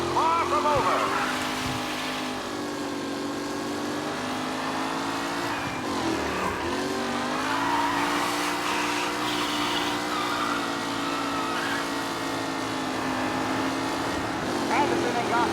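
Race cars in a race in Mafia Definitive Edition, engines droning and revving together in sustained harmonic whines that dip and climb. A commentator's voice runs over the engine noise.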